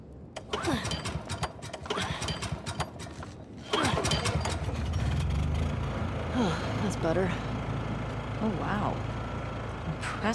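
A generator engine in The Last of Us Part II cranks and catches midway, settling into a steady rumbling idle, with voices talking over it.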